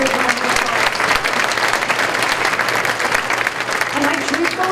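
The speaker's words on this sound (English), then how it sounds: "Give them a big round of applause." Sustained applause from a banquet audience at a Ponca City Teacher of the Year awards event: dense, steady clapping filling the room for the whole stretch, with no pause.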